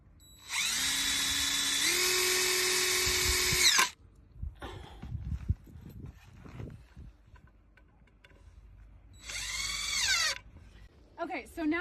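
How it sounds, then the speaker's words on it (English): A power drill drives screws into scrap 2x4 lumber for a garden trellis, a long loud whirring burst with rising motor pitch, then quieter handling noises and talk, then a second shorter drilling burst. "I'm just gonna get these screws started"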